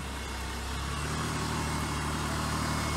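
A cold Honda Pilot engine runs at a smooth, steady idle, close and continuous with no misfire or change in pitch.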